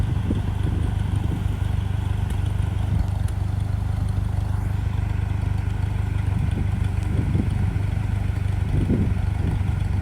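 A 1951 Ferguson TEA20 tractor engine runs steadily, a low rumbling idle with faint clattering knocks, close and constant for ten seconds with no talk.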